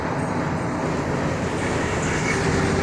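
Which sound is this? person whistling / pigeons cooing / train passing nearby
train passing nearby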